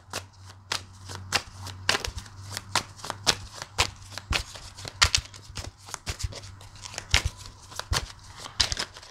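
Tarot cards being shuffled close up, a quick irregular run of crisp riffling snaps and soft slides, with no voices.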